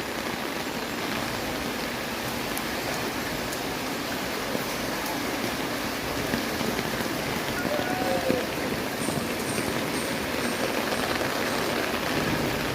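Steady rain pours down over a flooded street in Dhaka, a dense continuous hiss of drops hitting standing water that stays even and loud throughout, with no talk.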